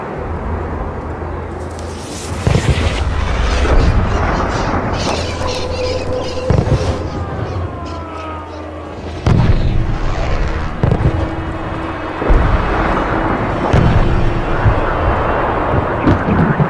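Artillery shells strike in the video game Operation Flashpoint, with several booming explosions at uneven intervals over a continuous background rumble, some sharp and near, others more distant.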